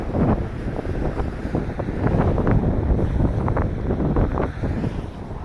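Strong wind gusts buffet the microphone outdoors near Maynard Lake, a loud, continuous roaring rumble that swells and falls with no talking.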